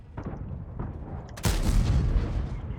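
World of Tanks game sound of a tank cannon round glancing off armour in a ricochet: faint rumbling before a sudden sharp boom at about one and a half seconds, followed by a loud, sustained roaring decay.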